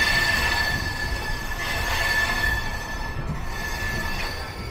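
A train pulls out of Purulia station with a loud, close rumble of wagons and a sustained high wheel squeal, and the rolling noise stays steady with no voices.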